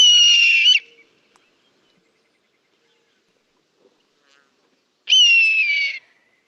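Two harsh, raspy owl screeches, each under a second long, separated by about four seconds of near silence.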